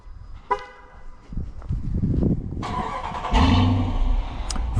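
Dodge Durango GT with a 5.7 HEMI V8: a short chirp and clicks, then the starter cranks and the engine catches with a deep rumble that settles into a fairly quiet, steady idle.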